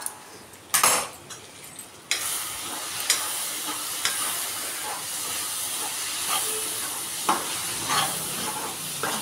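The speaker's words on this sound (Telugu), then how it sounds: "ఇప్పుడు ఇలా కలుపుతున్నాం కదా" Onion chutney being stirred in a pot, with a steady close sizzling hiss and repeated scraping strokes of a spoon against the pot, no talking.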